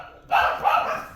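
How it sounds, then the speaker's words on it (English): Pet dogs at home give a quick close bark or two, a short sharp double burst with a faint tail of noise. "Why are my dogs acting up?"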